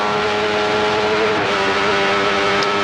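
A Benelli racing motorcycle roars steadily at well over 100 mph through a village on the Isle of Man TT course, a sustained racing drone with strong harmonic whine and no pause, close by and echoing off walls.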